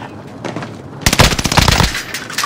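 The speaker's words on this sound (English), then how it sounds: "Taking fire over here" Loud burst of automatic gunfire from the Call of Duty Warzone video game, rapid close shots starting after a second of quieter ambient rumble and continuing as dense rattling volleys.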